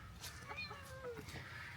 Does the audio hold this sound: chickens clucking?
yes